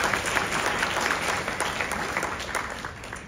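A film festival audience gives sustained, fairly close applause, a dense, even wash of many hands clapping that eases slightly toward the end.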